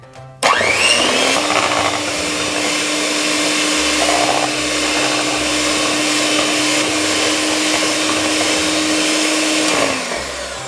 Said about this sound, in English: I'm just going to use my mixer.